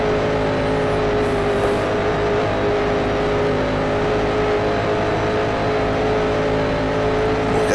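A McLaren Grand Prix car engine in the Grand Prix Legends racing game drones loudly and steadily at high revs, with a sustained harmonic whine holding close and constant throughout.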